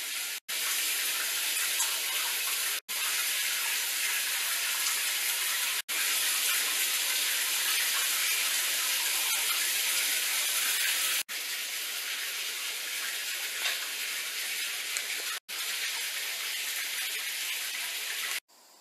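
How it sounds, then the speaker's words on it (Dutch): A home shower runs as a steady, close hiss of spraying water for almost twenty seconds, broken by a few brief silent cuts, with no talking. "Nu ga ik lekker douchen."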